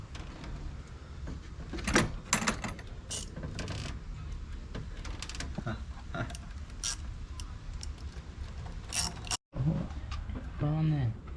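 Ratcheting clicks and metallic handling noises come from a hose clamp being tightened on a supercharger hose fitted to a BMW E36, steady and close amid background rumble.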